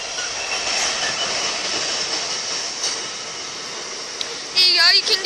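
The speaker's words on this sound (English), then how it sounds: "I can hear the train." Train passing a level crossing with barriers, a steady broad rushing roar of wheels on rails at moderate distance, with a brief squealing tone near the end.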